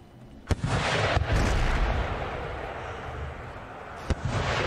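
Heavy artillery cannon fire on a Scottish battlefield in the video game Empire: Total War: sharp booming shots near the start and end, with a long rumbling roar and crackle of distant guns rolling in between.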